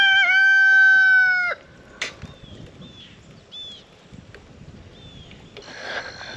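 Soaked backyard chickens after a windstorm: a loud rooster crow opens, followed by scattered, softer clucks and short calls over a low outdoor background.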